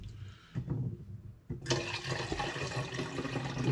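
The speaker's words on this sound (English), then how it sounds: "Now I pour the water in to make up to 500 mils." Water pours into a vessel to make up 500 ml for film developing, a close, full rush of liquid that starts in short splashes, then swells into a steady, loud pour for the last couple of seconds.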